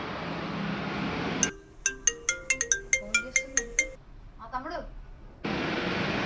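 A phone ringtone plays clear and close as a call is placed to an older sister, a quick run of bright chiming tones lasting a few seconds, framed by steady background hiss before and after.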